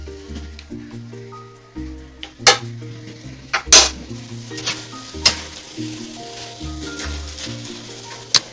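Beef tripe and vegetables stir-fry in a pan, with a steady sizzle broken by sharp scrapes and clanks of a metal utensil against the pan, under background music.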